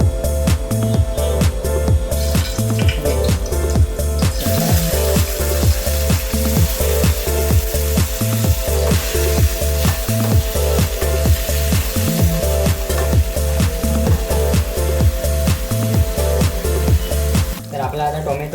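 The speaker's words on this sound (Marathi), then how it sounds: "तर तेल गरम झाल्यानंतर आपण फक्त त्याचे टोमॅटो टाकून घेणार आहोत." Tomatoes are dropped into hot oil in a home kitchen pan and fry with a loud, continuous sizzle and crackle. A steady pulsing beat, like background music, runs throughout.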